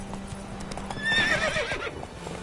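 Roach, the horse in The Witcher 3 video game, gallops in a quick clip-clop rhythm and lets out a sharp, bright neigh midway through the short burst.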